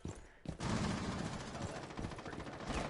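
Rapid gunfire erupts in the shooter game Overwatch, a dense, loud burst of overlapping shots after a brief quieter moment, continuing without pause.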